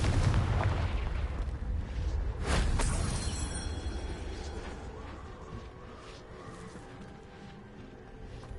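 A Confringo explosive spell cast in the video game Hogwarts Legacy: a loud blast and crackling burst near the start, followed by a long rumbling decay that fades gradually, with no speech.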